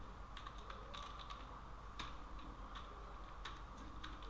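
Quiet keystrokes tap on a computer keyboard in an irregular rhythm, faint and close, while someone edits a spreadsheet formula.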